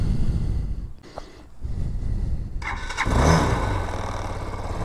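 A Vitacci Bashan BSR Raven 250 engine rumbles, then cranks and catches into a louder, rough running idle that holds steady and fairly close.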